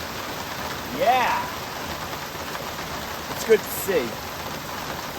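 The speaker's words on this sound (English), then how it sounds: "during this rain to see the water flowing" Steady rain falls at an off-grid workshop build site, a constant even hiss throughout, while someone speaks briefly over it.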